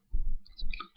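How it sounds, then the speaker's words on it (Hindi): A computer mouse gives two quick, crisp clicks in close succession, close and fairly quiet, with no voices over them. "राइट क्लिक करेंगे और इंसर्ट पे क्लिक करेंगे"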